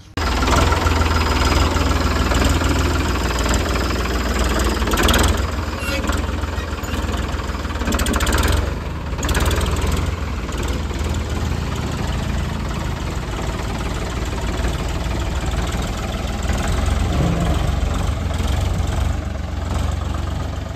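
A tractor engine idles with a trolley hitched, a loud, continuous low rumble that runs unbroken throughout, with slight swells in intensity and no talk.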